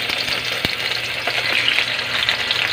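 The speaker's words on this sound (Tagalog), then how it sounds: "I-light brown lang natin ng kaunti ang ating bangus bago tayo mag-isa" Milkfish (bangus) fries in a pan with a steady, dense sizzle and crackle that holds at an even level throughout, close by and with no voices over it.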